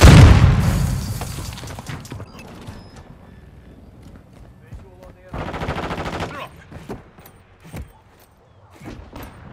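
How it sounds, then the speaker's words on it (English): Heavy gunfire in Call of Duty: Modern Warfare II, a loud opening boom and blast followed by scattered shots, a dense automatic burst midway and sharp isolated reports near the end, with mechanical clicks between. "Taking effective fire!"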